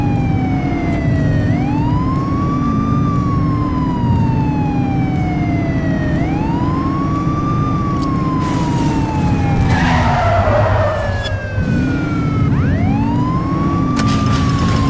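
Police sirens wail continuously in a car chase in The Precinct game, the rising and falling tones sweeping over a loud engine rumble, with a brief skidding burst near the end.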